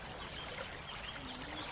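Spring water trickling steadily out of a hole in a village mountainside, a soft continuous watery hiss and patter close by, with no voices.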